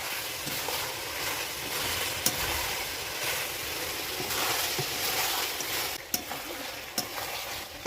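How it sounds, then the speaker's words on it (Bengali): Ground spice paste of dried chilli, ginger and cumin frying with onion and garlic for a duck curry, a continuous close sizzle with occasional sharp clinks of a spoon against the pot, no talking. "এখন আমি এই যে বেটে রাখা মশলাগুলো দিয়ে দেবো।"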